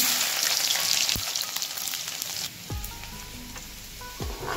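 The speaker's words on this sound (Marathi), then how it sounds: "मी आता तिथं तेल गरम करून घेतले, त्यात टाकून घेणार आहे जिरं, लसूण" Cumin and garlic dropped into hot oil crackle into a steady close sizzle, with a few sharp pops and clinks from the pan as it fries, no voices.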